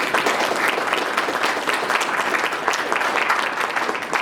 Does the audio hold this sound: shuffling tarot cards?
no